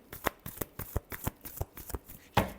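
Tarot cards being shuffled by hand in a quiet room, a string of soft, crisp riffling slaps in an irregular rhythm, ending in one louder final snap.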